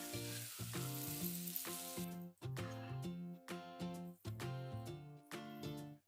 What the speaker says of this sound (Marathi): तर मस्त आपण भाजीवर आता तडका मारूया